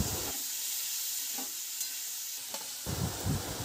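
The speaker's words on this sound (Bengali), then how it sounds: "এইবার ভেজিটেবলসগুলো সবগুলো দিয়ে ভালো করে নেড়ে চেড়ে নিচ্ছি।" Mixed vegetables tossed and stirred in a hot pan while frying, a continuous close sizzle with a few scrapes and louder bursts of stirring at the start and end, no voices.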